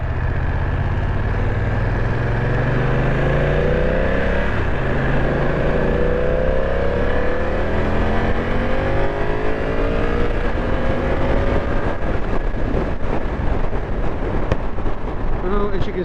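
A BMW F900 XR parallel-twin motorcycle, carrying a rider and a pillion passenger, pulls hard under acceleration. The engine note rises steadily and stays loud all the way through, backed by heavy wind rush.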